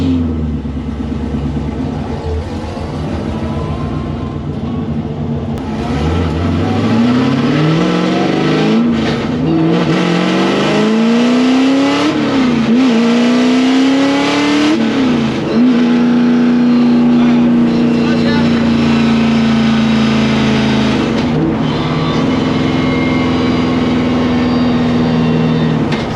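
A supercharged 1967 Chevy C10 pickup with a new clutch drives hard, its engine climbing through several loud rising revs and gear changes before settling into a steady high drone. The sound stays close and strong the whole way, with no voices.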